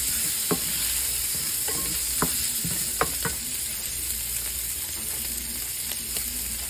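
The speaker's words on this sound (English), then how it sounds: "Going to do a quarter of an onion in the bacon that is rendered down for the fat, and saute all that in together" Quarter of an onion sautéing in rendered bacon fat, a steady close sizzle with scattered sharp pops and crackles and occasional utensil taps, no voices.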